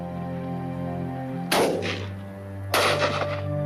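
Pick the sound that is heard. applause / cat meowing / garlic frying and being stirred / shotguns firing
shotguns firing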